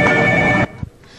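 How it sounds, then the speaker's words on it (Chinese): A stock traders' telephone rings loudly and close in a busy trading room on the last trading day of the year, one sustained bell burst that cuts off abruptly, followed by faint knocks and quiet room noise. "股票交易员电话响不停"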